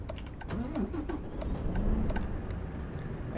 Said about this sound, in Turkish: Çalıştıralım aracımızı.